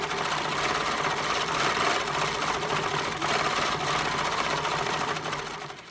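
Sewing machine running steadily while stitching a quilting fill of small circles and squiggles, a continuous close whirring hum with rapid mechanical stitching rhythm lasting throughout.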